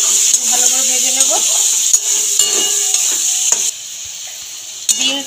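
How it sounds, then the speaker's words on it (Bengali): Beans and carrots frying in hot oil in a pan for a Bengali mixed vegetable dish, with a steady sizzle under scraping stir strokes and a few clinks of utensil against metal; faint voices and background noise are heard partway through. "ভালো করে ভেজে নেব।"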